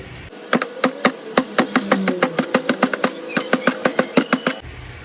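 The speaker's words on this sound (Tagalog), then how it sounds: "Narinig ko na yung motor ni Eric." A motorcycle engine putters with a string of sharp, evenly spaced thumps, fairly close and loud, running alone for several seconds before cutting off.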